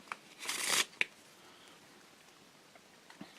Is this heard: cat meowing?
no